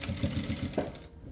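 A sewing machine stitches a dress side seam with a short backstitch, its needle thumping in a fast even rhythm before stopping, close and moderately loud, no talking.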